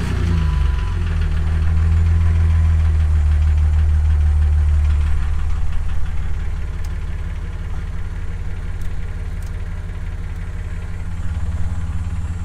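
A Jeep TJ engine cranks and catches, roars briefly, then settles into a steady, slightly knocking idle.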